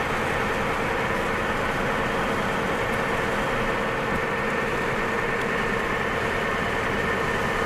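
A 1993 Ford Ranger XLT Supercab with the 3.0 engine drones steadily while cruising in fifth gear around 45, a constant loud mix of engine and road noise heard from inside the cab without speech.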